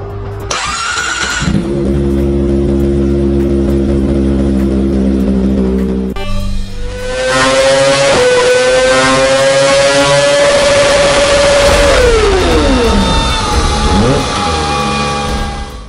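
A turbocharged Kawasaki ZX-25R 250cc four-cylinder motorcycle engine runs loud and close, holding a steady drone before climbing into a high-pitched rev that peaks and then drops away.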